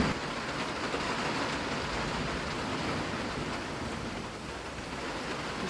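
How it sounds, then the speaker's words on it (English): Rain falling steadily outside on an off-grid homestead, a constant broadband wash of drops heard from indoors, even and unbroken, with no talking. "the rain is still coming down out there"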